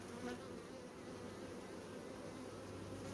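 A dense, steady buzzing of many honey bees in a hive fills the clip, a close, continuous drone with no pauses and no voices.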